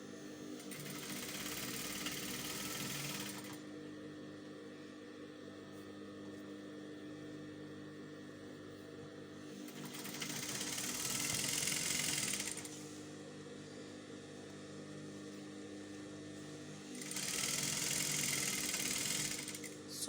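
A sewing machine stitches the front seam of a cowl bubu kaftan gown in three bursts of fast whirring, separated by quieter stretches of low background hum, steady and moderately close.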